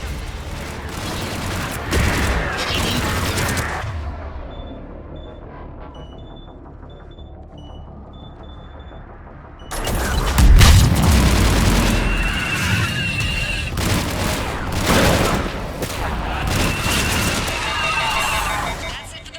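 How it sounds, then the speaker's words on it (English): Missile strikes and gunfire in Mass Effect 3 during a fight at an Asari temple, with heavy booming blasts and rattling bursts, a quieter lull, then a loud explosion followed by continued firing, with voices talking over the combat. "That's it for the missiles. Switching to the gun."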